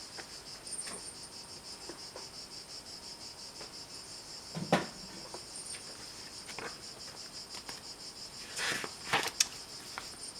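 Cicadas sing in a steady high-pitched drone through a summer outdoor setting in July, with a few brief knocks and rustles partway through and again near the end.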